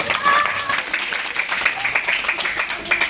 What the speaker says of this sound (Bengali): হাততালি হয়ে যায়